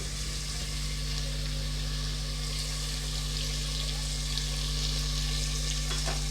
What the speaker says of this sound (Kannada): ಸ್ವಲ್ಪ ಹಾಗೆ ಫ್ರೈ ಮಾಡ್ಕೊಂಬಿಡೋಣ ಈಗ ಹಸಿಮೆಣಸಿನ್ಕಾಯಿ ಪೇಸ್ಟು